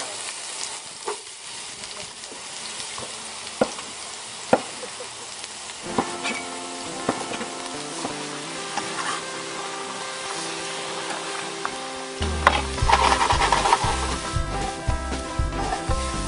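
Vegetables from Wyndham Gardens in Connecticut (tomatoes, squash, eggplant and peppers) sizzle and get stirred in a pan for a late-summer caponata. A steady frying hiss runs throughout, with music playing beneath it.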